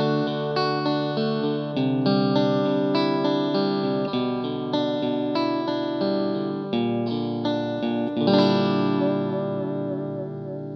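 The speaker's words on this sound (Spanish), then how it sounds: "Vamos a chequear primero cómo suena el pedal en bypass." An electric guitar with the Dual Dream overdrive pedal switched to bypass plays sustained chords and notes, ringing fairly clean and steady throughout without any speech.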